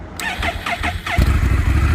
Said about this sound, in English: here's the big shebang as she rumbles in the ground, shaking, earth-moving exhaust.